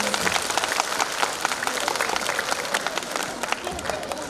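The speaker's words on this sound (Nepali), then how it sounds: "यिनीहरूलाई एकचोटि जोरदार तालीद्वारा स्वागत गरिदिनु अनुरोध गर्दछु" Audience applause welcoming foreign guests at a school's annual parents day event, a dense sustained burst of clapping from a crowd filling the room at steady loudness.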